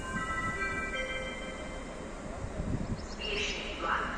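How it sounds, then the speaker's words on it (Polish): A train made of a control car with an attached wagon rumbles past at Český Těšín, a loud continuous rolling roar with steady tonal whine and brief squealing metallic notes near the end. "I tu mamy ten wagon sterowniczy z dopinką"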